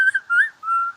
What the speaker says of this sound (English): Whistling, can you whistle?